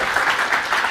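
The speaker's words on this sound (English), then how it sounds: "So please, round of applause." A conference audience applauds, a steady wash of many hands clapping together throughout one loud, dense second with no voices over it.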